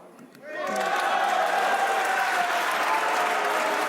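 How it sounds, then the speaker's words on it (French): Opposition deputies in the French parliament break into sustained applause, rising sharply after a brief quiet moment and continuing loud and steady, mixed with some crowd voices. "Les députés votent la suspension des discussions sous les applaudissements de l'opposition."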